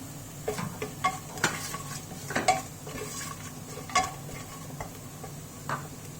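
A spoon stirs onions with turmeric and garam masala inside a pressure cooker for chicken biryani, giving scattered light scrapes and metallic clinks against the pot over a faint sizzle, close and fairly quiet.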